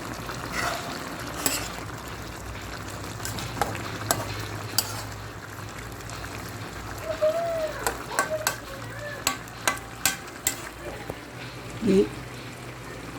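Saluyot leaves with long chilies simmer in coconut milk, a steady bubbling sizzle under scattered stirring clinks and scrapes, while someone talks quietly over the pot.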